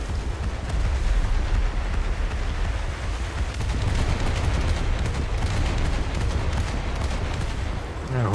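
Naval guns aboard a US coastal boat in a warship game fire shells amid continuous dense battle noise, a loud sustained barrage of booms and gunfire with no quiet gaps.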